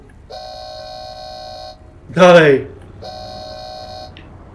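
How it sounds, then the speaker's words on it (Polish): Two long, steady car-horn blasts sound in Cyberpunk 2077 city traffic, loud and near, separated by a short spoken phrase from a player. "Ktoś się trąbi?"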